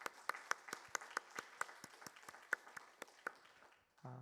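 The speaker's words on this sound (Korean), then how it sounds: "우리 다음 세대를 위해서 우리 함께 큰 박수 격려하겠습니다" A church congregation at Sunday morning worship claps in a sparse, uneven rhythm, with distinct individual claps spaced apart rather than a dense roar, ending with a brief tonal sound.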